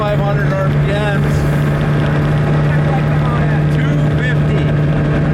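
Suzuki GSXR engine powering a homemade vehicle holds a steady drone at about 4,500 RPM, loud and continuous throughout, with voices talking faintly over it.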